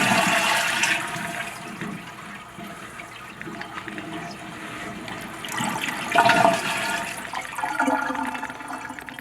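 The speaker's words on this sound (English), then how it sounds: "We're gonna flush our toilet." A household toilet is flushed after its water supply has been shut off, a loud rushing gush of water swirling down the bowl with no talk, surging again partway through before easing.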